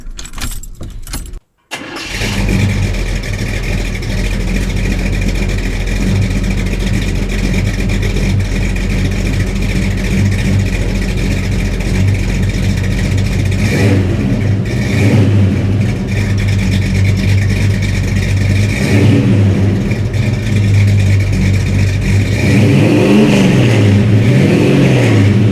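A Blueprint Engines 350 V8 in a truck cranks briefly, catches and settles into a loud, steady rumbling idle, then revs up and down several times toward the end, heard from close by.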